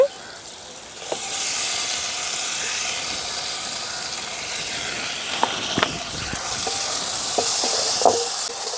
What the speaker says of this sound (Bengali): টমেটোটাকেও ভালো করে কষিয়ে মশলার সঙ্গে মিশিয়ে নেব